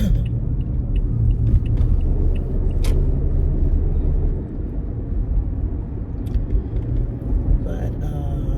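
Steady low road rumble of a car being driven through a familiar work area, continuous and fairly loud throughout, with a faint voice in the background.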